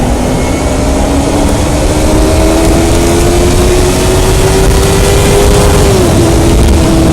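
A Yamaha R3 motorcycle engine holds a loud, steady drone close by, its pitch creeping up slowly before dipping slightly near the end, heard alone without talk.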